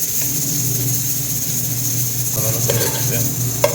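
A pressure cooker hissing nearby in a home kitchen while chicken biryani is cooked, a steady high hiss over a low hum, with a few light clicks and a short rise in noise toward the end.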